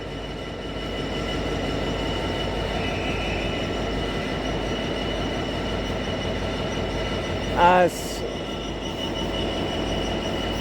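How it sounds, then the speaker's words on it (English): A GBRF freight train hauling EWS hopper wagons rolls past at Nottingham with a continuous heavy rumble and rhythmic wheel clatter, a brief sharp squeal near the end and a faint word spoken over it. "you've got a GBRF, well, Nottingham Express Limited here, but probably GBRF Limited it would have been with EWS Limited hoppers"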